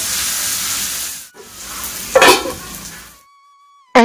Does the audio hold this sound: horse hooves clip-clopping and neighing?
no